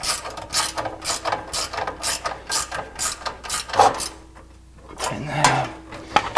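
The treadle mechanism of a Consew 206 RB5 industrial sewing machine table works in quick rhythmic clacking cycles, each stroke a ratcheting mechanical clatter, with a short lull midway before the motion resumes.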